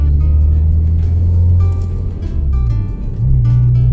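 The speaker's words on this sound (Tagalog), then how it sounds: "Yon ang tunog ng ating chambered muffler." A car idles and blips through a Greddy chambered muffler, giving a loud, deep exhaust rumble that drops briefly then rises again with short throttle revs, heard up close.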